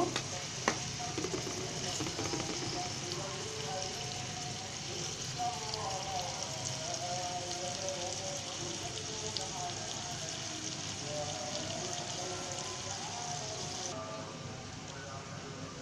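Onions sizzle steadily in hot oil as they fry to a light brown for a Bengali mustard hilsa dish, a dense, continuous crackle that holds for the whole stretch, with faint speech underneath.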